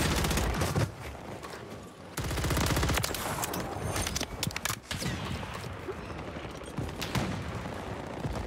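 Sustained automatic gunfire rattles through a Call of Duty Warzone match in dense, rapid bursts, broken by brief pauses and a few sharper single cracks, loud and close throughout.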